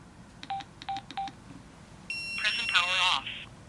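A Sena Prism Bluetooth camera answers taps on its remote phone button with three short electronic beeps in a row, then a burst of tones runs under a brief synthetic voice prompt, all close and clear.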